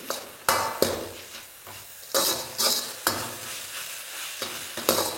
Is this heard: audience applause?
no